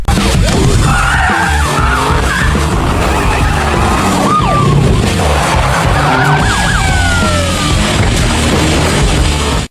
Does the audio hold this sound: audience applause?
no